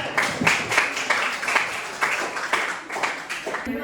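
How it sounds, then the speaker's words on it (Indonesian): A classroom group gives a short round of applause for a student team, brisk rhythmic clapping from several people close by that runs steadily for a few seconds. "Beri aplaus untuk kelompok 4."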